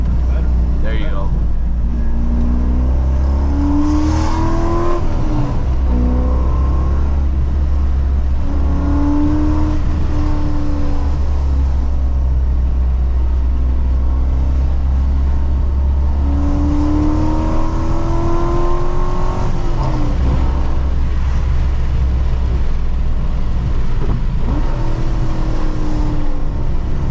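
A C5 Corvette Z06 with an LS6 engine and LT headers makes hard pulls from the driver's seat, its loud deep exhaust roar climbing through the revs several times with drops at the shifts, while voices talk over it.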